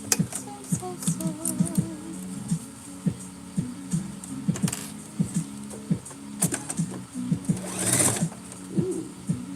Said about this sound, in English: Alright, now we're about to sew.